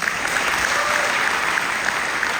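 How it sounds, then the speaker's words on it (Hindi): Dense, steady applause from a large audience at a motivational seminar, a continuous wash of clapping hands that holds at an even level throughout without voices on top. "हो सकती है ना जबरदस्त तालियां"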